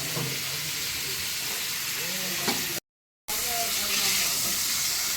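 Potatoes frying in a pan on a home stove, a steady close hissing sizzle with small crackles and pops that cuts out abruptly for a moment before resuming.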